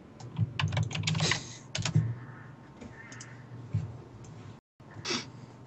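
Rapid, uneven typing on a loud mechanical computer keyboard, close clicks and clacks in bursts with a brief pause, no talking.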